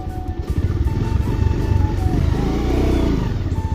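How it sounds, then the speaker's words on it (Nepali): A motorbike rides along a rough offroad track in rural Baglung, its mid-pitched engine running steadily close by with shifting revs and a rattling clatter throughout. "हिँड्छ यो बाइक त।"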